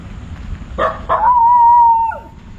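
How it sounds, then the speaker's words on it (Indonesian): A dog near the Kahayan River gives two sharp, close barks followed by a drawn-out howling whine, with no one talking. "Saya digonggongi anjing itu"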